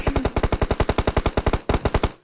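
Rapid automatic gunfire in PUBG Mobile, a steady burst of about twenty evenly spaced loud shots, close and alone with a brief gap before a final short volley.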